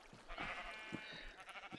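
A Minecraft sheep in a survival server world gives a short bleat, a single wavering cry lasting under two seconds, close and fairly quiet with no voices over it.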